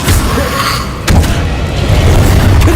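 The Accio summoning spell is cast in Hogwarts Legacy: a loud, dense magical whoosh with a deep rumbling boom, and a sharp impact about a second in, sustained and close.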